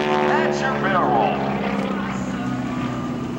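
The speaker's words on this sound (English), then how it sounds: "as Kevin takes his SNJ aircraft, one of the lowest time flying SNJs in the world" A low-time SNJ propeller warbird flying at the 2008 Wheels & Warbirds airshow, its loud droning engine steady and close while an announcer talks over the PA.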